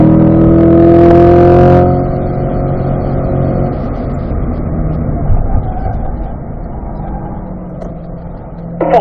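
A race car taking a hill on a track at full throttle, with a loud close engine holding a steady harmonic drone that changes pitch and then goes on roaring in a strained, rough tone, without any talking.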